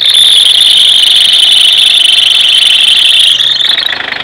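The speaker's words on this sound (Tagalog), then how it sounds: "naririnig natin 'yon dahil sa maluwag na 'yung fan belt" A car engine revved hard with a loose fan belt slipping at the alternator, giving a loud, continuous high-pitched squeal that holds steady for several seconds, then fades slightly near the end.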